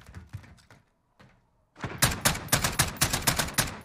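Rapid bursts of gunfire from a rooftop sniper team in a battle royale game follow a quieter stretch of a few muffled thuds, the shots cracking loud and close in a dense repeating volley.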